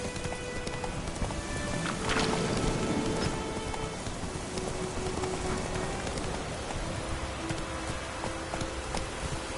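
Steady hoofbeats of a galloping horse in a video game under a wash of rain and ambient noise, continuous and moderately loud throughout.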